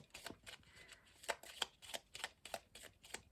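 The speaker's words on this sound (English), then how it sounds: "give them a shuffle" A deck of cards is shuffled by hand in a quiet room, a series of quick riffling bursts in uneven rhythm, close and soft, with no talking.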